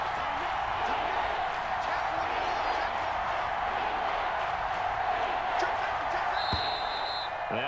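A video game stadium crowd during an NFL football game in Madden NFL 21 roars as a steady, loud wash of noise, with scattered thumps and a whistle-like tone near the end.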